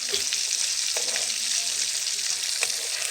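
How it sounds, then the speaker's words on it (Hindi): Mutton shami kebabs fry in a pan after being flipped to cook both sides, giving a steady, dense sizzle that stays loud and close throughout, with faint kitchen clatter and no speech. "ये कबाब हमारे दोनों साइडों से फ्राई हो गए हैं।"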